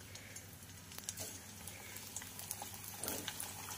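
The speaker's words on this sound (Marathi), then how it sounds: "तर आता आपण फ्राय करून घेऊया।" Pieces of varan batti wheat dough fry in hot oil in a kadhai, a soft steady sizzle and bubbling with occasional small pops, fairly faint and without talk.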